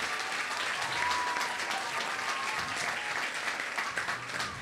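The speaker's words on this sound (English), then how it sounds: "I think you all need to give them another round of applause." A school assembly audience gives a sustained, dense round of applause for the students on stage, steady and even throughout with no voices over it.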